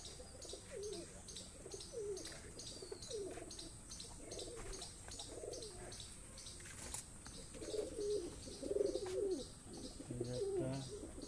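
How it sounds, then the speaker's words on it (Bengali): Pigeons in their coops give soft, repeated low cooing calls at close range, overlapping in irregular bursts over a quiet background with faint chirps. "পায়রাগুলো সব খোপে ঢুকে গেল।"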